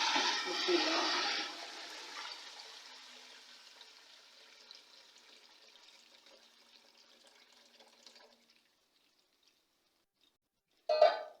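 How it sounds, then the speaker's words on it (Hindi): Water poured into a pot of fried cardamom while cooking jaggery rice, a loud gushing hiss for the first two seconds that fades into a long sizzling simmer, ending with a brief clatter. "अब सारा डाल देंगे पानी इसमें।"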